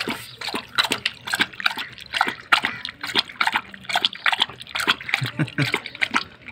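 A thirsty dog laps water outdoors, producing rapid irregular splashing and sloshing slurps at close range, continuous and fairly loud throughout.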